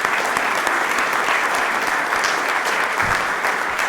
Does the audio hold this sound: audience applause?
yes